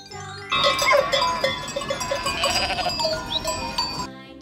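A goat bleating amid a bright children's phonics song, a wavering cry over steady music that plays throughout.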